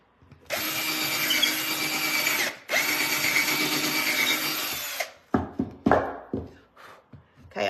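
A battery-powered drill running in two long continuous bursts with a short break between them, loud and close, followed by several short scraping and rubbing noises during a DIY decor project.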